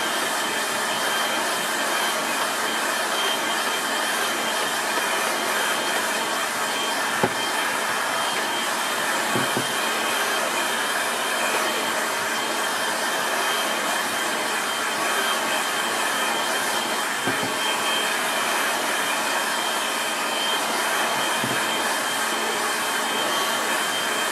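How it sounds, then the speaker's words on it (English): A hair dryer blows steadily to dry a watercolour painting on paper, a loud, continuous whooshing roar with no pauses, interrupted only by a few faint clicks. "I'll give that a quick dry with the air dryer"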